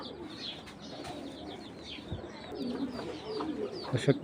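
Iranian Ice Bar racing pigeons give soft cooing calls at close range, with faint wing flutters and rustling behind them and a few louder coos near the end.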